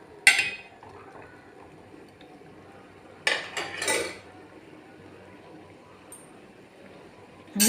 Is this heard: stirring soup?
yes